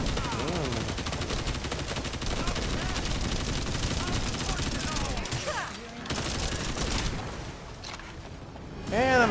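Sustained automatic gunfire rattles through a sci-fi looter-shooter game, The First Descendant, dense and loud with a brief lull near the sixth second, while someone talks over the shooting.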